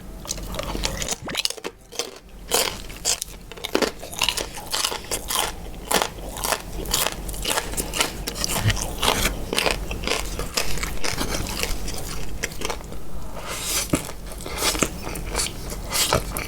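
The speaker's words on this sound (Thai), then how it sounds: "หมูกรอบเข้าปากก่อน" Loud, close crunchy bites and chewing of crispy pork belly eaten with a spicy fermented-fish papaya noodle salad, with repeated sharp crackles in an irregular rhythm and no talking.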